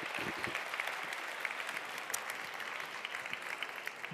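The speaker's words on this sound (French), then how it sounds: "Merci beaucoup, un tonnerre d'applaudissements." An award ceremony audience applauds, a dense, even patter of many hands clapping steadily at moderate volume throughout, with no voices over it.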